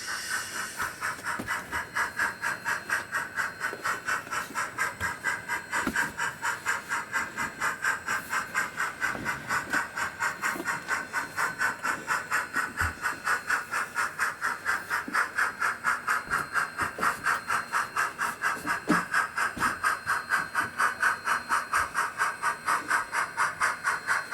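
A large Big Boy steam locomotive approaches, chuffing in a fast, steady rhythm with constant hissing steam, pulling Transport for Wales coaches, continuing evenly for over twenty seconds with no voices.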